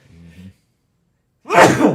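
A short murmur of voices, a moment of silence, then a single loud, close sneeze bursts out.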